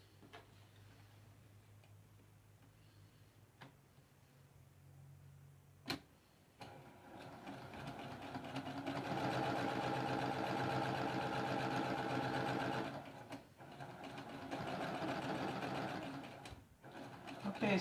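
A sewing machine stitches a quilt strip in a rapid mechanical whir that builds up and continues steadily, with a brief pause and a few ticks and clicks as the needle and presser foot are handled, close and fairly quiet.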